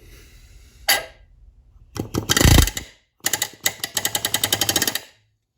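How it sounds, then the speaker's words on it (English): Rivet gun driving a rivet against a bucking bar in buck riveting on an Airstream trailer: a short hit, a longer burst, then a rapid rattling hammer run of about a dozen close, loud pulses. "I'll go ahead and do one more rivet"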